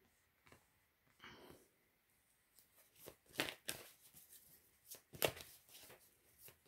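Tarot cards drawn and laid out by hand during a reading, giving soft scattered shuffles, slides and a few sharp snaps, close and fairly quiet with no speech.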